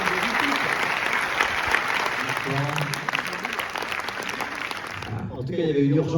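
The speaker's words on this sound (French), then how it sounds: "je vous demande un tonnerre d'applaudissements pour Éric Toledano et Olivier Nakache." Cinema premiere audience giving a thunderous round of applause for the film's directors, dense sustained clapping from a full theater that fades near the end as a voice begins speaking.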